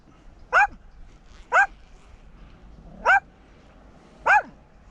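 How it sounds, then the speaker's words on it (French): A dog gives four separate sharp barks, evenly spaced about a second apart, loud and close against a quiet background with no talking. "il n'est pas obligé d'aboyer pour que les gens partent en fait."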